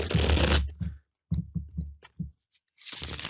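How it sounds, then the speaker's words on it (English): A deck of reading cards being shuffled close by: a dense riffle burst, then several short separate card flicks and taps with gaps, and a final longer shuffle. "Let me just shuffle up the cards and see."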